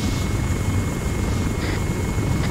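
Helicopter flying in ArmA3, a loud steady rotor thrum close by with no talk.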